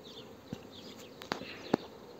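Honeybees at a beehive, a steady soft buzzing drone close by, with a few sharper buzzes as single bees pass near.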